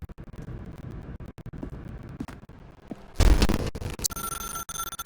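A telephone rings in the video game The Stanley Parable, its bright electronic tone arriving near the end after a loud rumbling burst, over a muffled, murky game ambience.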